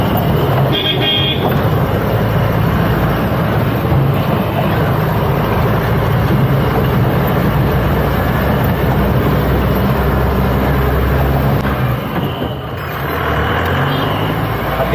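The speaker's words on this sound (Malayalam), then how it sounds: "അത്യാവശ്യം എഞ്ചിൻ നോയ്സ് ഒക്കെ നല്ല രീതിയിൽ വണ്ടിക്ക് അകത്തോട്ട് കയറുന്നുണ്ട്." Engine drone fills the cab of a 2013 Mahindra Loadking CRX tipper truck, a loud, continuous low rumble with road noise, steady throughout with a slight dip near the end.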